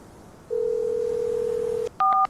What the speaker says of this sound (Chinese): 江川，怎么今天有空给我打电话？